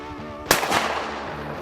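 A single loud shotgun blast during duck-hunt retrieving training with a dog, sharp and close, followed by a brief rolling echo outdoors.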